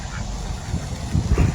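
Ducks at a park pond in East Knoxville, Tennessee, let out a few close, low, nasal quacks and honks over a steady outdoor background.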